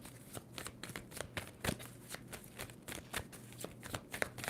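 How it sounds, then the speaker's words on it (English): Tarot cards being shuffled by hand in a steady run of crisp riffling flutters and soft slaps, close and fairly quiet, with no one talking. "2 more shuffles for Scorpio."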